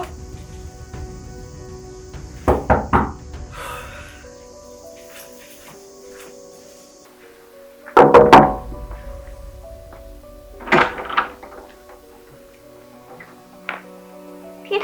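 Knocking on a door sounds in separate bursts of a few sharp raps, close and loud, with quiet stretches between them.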